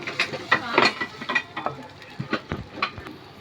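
Onions deep-frying in a pan for a Hyderabad chicken curry give off a steady crackling sizzle, broken by repeated scraping and clinking stir strokes that sound close by and moderately loud.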